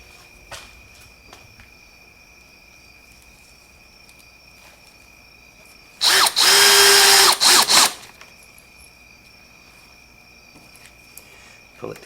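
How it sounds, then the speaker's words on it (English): A power drill drives screws through wooden braces into the back of a handmade wooden sign, one loud continuous whirring burst of about two seconds standing out against a quiet room. "we'll just screw these braces onto the back"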